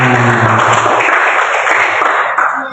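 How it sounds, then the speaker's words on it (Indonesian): A primary-school class in Indonesia applauds the competition winners, a dense, steady patter of many small hands clapping together for a few seconds, loud and close, with a brief low voice heard near the start. "Tepuk tangan."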